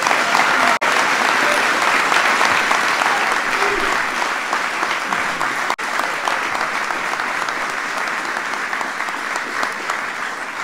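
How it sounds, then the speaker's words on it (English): A large crowd in a formal hall roars with sustained, dense applause for the captain of the 2016 NCAA champion Villanova men's basketball team, loud and unbroken from start to finish. "Give him a big round of applause."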